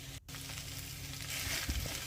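Rice frying in a pan for a cheap, easy dinner sizzles steadily throughout, with a brief stirring scrape near the start and no talking.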